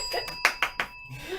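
A bright bell sound effect played on air during a WSGE 91.7 FM radio interview, ringing in several quick, clear strikes that fade out, with no talking over it.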